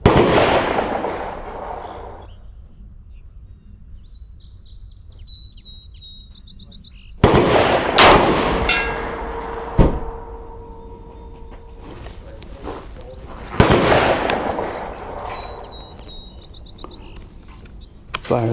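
A Colt 901 rifle fires .308 rounds outdoors: loud, sharp shots ring out a few seconds apart, with faint voices in the pauses.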